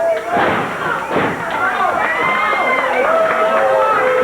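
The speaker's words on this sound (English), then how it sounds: "you hear the reception that gets as he wants applause for the Mod Squad" Crowd noise at ringside in a 1986 professional wrestling arena, a loud continuous roar with thuds and slam impacts from the ring, mixed under ongoing commentary.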